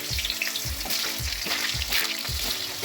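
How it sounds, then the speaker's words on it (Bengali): Salted potatoes for a mutton curry fry in hot mustard oil in a wok, a dense, close sizzle broken by regular stirring strokes roughly every half second, with no talking. "এর মধ্যে আমি মাটনের আলুগুলো ফ্রাই করে নেবো।"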